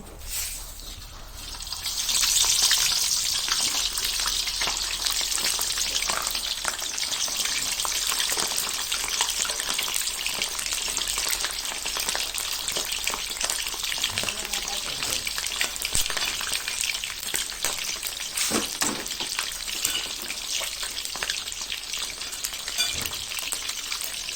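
Steady, loud sizzling of mackerel frying in hot oil, a dense crackling hiss that continues throughout with occasional sharper pops.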